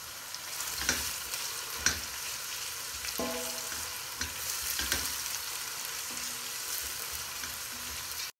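Chopped onions, with garlic and ginger already added, fry in a pan for a mince pasta dish, giving a steady close sizzle broken by a few sharp stirring knocks and scrapes, with no voices.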